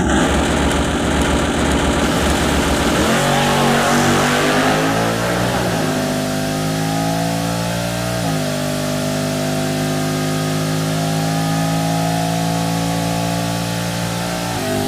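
The Crusher Camaro, a drag car, launches on a drag strip with a loud engine roar that climbs through rising gear pulls, then holds a steady, receding drone.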